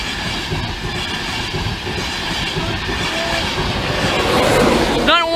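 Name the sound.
Class 82 passenger train passing level crossing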